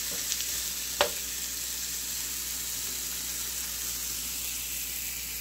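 Ginger, garlic and spices frying in a pan for chicken curry, a steady close sizzle with a brief clink of a utensil near the start, no talking.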